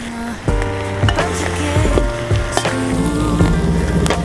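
Cabbage and other vegetables sizzle and crackle steadily in hot oil in a pan, with repeated scraping and clanking strokes of a utensil stirring them.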